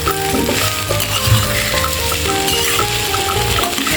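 Okra pieces with coconut frying in a pan in Andhra style, stirred now and then, giving a steady close sizzle with soft scraping and a faint clink of the utensil against the pan.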